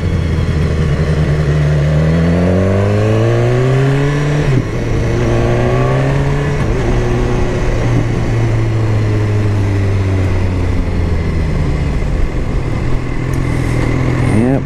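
BMW S1000R motorcycle being ridden, its engine loud and close, revving repeatedly with rising pitch sweeps as it shifts through gears, then settling into a steady drone.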